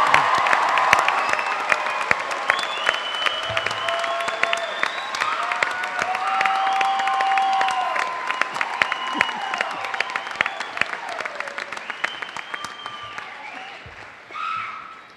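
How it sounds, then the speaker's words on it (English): Sustained audience applause at a graduate college of social work convocation, many hands clapping at once with cheers and whistles rising through it, loud and continuous before fading near the end. "Can we have another round of applause for all our graduates"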